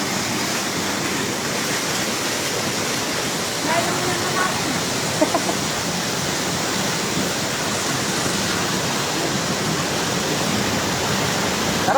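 Steady, dense rush of a waterfall, Sprite Falls in the Philippines, roars continuously at close range, a broad unbroken wash of noise with no pauses.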